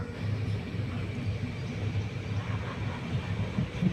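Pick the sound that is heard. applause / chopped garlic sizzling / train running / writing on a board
train running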